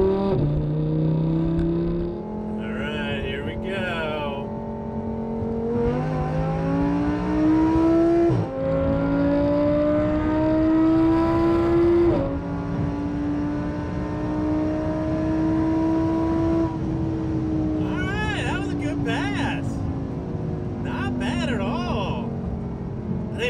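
A supercharged Audi R8 engine revs up hard through several gears, each climb in pitch cut by a brief drop at the shift, loud and close throughout.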